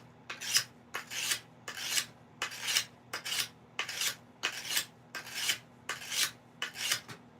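A blade's bevel being smoothed with a file or sharpening stone, about a dozen regular rasping strokes, each a close, bright scrape about half a second long, repeated at an even rhythm over a low steady hum.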